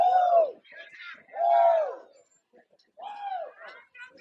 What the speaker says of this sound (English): I hear a bunch of woos